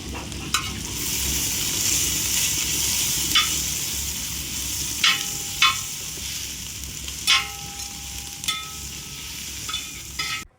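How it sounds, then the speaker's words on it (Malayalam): Onions sautéing in oil in a pan until golden for a beef curry, a steady sizzle and hiss overlaid by intermittent sharp spoon scrapes and taps against the pan, close and unaccompanied by talk. "സവാളയുടെ കളറൊക്കെ നല്ലപോലെ മാറി ഒരു ഗോൾഡൻ കളറായിട്ട് ആവുന്നത് വരെ നമ്മൾ വഴറ്റിയെടുക്കണം"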